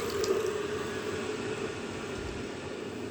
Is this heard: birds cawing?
no